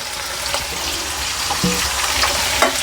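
Chopped radish and bottle gourd tipped into a pot of vegetable sambar on the stove, with a continuous sizzle, a few soft clatters and splashes close by, and no talking.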